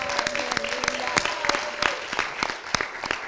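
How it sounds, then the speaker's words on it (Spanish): Applause from an audience at a feminist panel discussion on care societies, a moderate patter of clapping with voices talking over it. "Pueden aplaudir."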